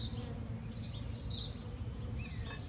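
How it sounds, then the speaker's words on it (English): Honey bees from a bee package give off a faint, continuous low hum, with brief higher buzzes drifting in and out. "Alright, so I'm fixing to release the bees."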